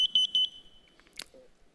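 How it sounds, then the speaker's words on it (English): Five quick, sharp high-pitched beeps from a smoke alarm, followed by a fading tone and a brief faint rustle. "anger is like a smoke alarm. Don't you hate that sound?"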